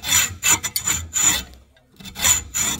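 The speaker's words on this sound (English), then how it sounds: "Well, I had to cut down some steel," Steel being cut down by hand for a counterweight: loud, close rasping strokes in a regular back-and-forth rhythm, a short pause midway, then more strokes.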